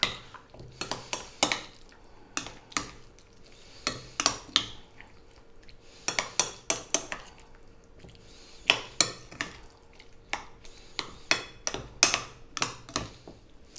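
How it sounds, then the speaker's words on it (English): Chicken being mixed with yogurt and food coloring in a bowl, giving a series of irregular wet clinks and scrapes of a utensil against the bowl, close and moderately loud, with no talking. "Simply, we're going to give this a little mix."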